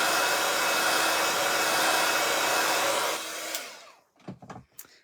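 Heat tool blowing a steady loud whoosh over stamped mirror card for about three seconds, then switching off, followed by a few brief light handling sounds.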